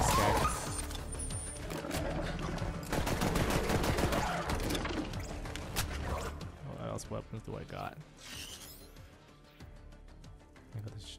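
Shotgun blasts from Zane's weapon in the Borderlands 3 video game, a burst of loud booming shots in the first six seconds over game music and chatter, with a voice talking throughout.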